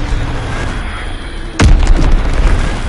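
A sudden heavy bomb blast in a PS4 war game, a sharp boom at mid-clip followed by a rumbling roll over steady background battle noise.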